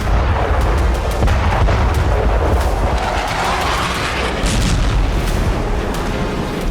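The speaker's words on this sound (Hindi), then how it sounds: "पुतिन की सेना हर फ्रंट पर भीषण विस्फोट कर रही है।" Continuous rumbling booms and blasts from artillery fire in the Russia-Ukraine war, dense and heavy, with overlapping explosions and crackling throughout.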